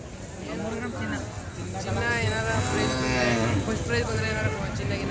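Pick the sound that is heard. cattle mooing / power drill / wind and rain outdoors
cattle mooing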